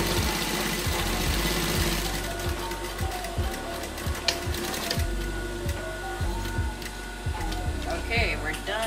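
A sewing machine stitches a Hong Kong seam in a rapid, steady mechanical chatter of needle strokes, close and continuous, with a rhythmic thumping drive underneath that runs throughout.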